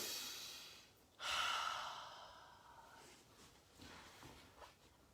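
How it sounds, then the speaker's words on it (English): A deep, slow exhale sighs out during a yoga session, loud and close at first and then fading, followed by a few softer breaths. "Breathe in, breathe out all the time. These very, very, very deep breaths."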